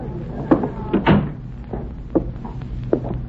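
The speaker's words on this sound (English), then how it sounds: "Shut the door." An indoor door is shut with a series of close wooden thumps and clatters at uneven intervals over a low background hum.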